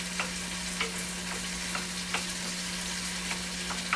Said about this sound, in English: And you can hear them start to bubble, and it's really starting to like get sauced up